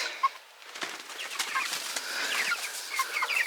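Free-range backyard chickens near a planned barn cluck and murmur in soft, scattered calls over a steady outdoor hiss, with no talking.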